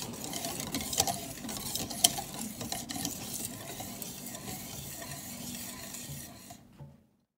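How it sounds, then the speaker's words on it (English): Chocolate syrup bubbles at a rolling boil in a pot on the stove, a steady close bubbling hiss with occasional sharp clicks and clinks, fading abruptly to silence near the end. "it's came to a rolling boil"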